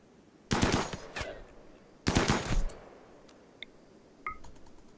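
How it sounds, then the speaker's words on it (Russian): Sniper rifle shots in the RimWorld video game during a fight with pirates: two loud sharp bursts of gunfire, followed by faint clicks and small impacts. "Чё за снайперские выстрелы такие?"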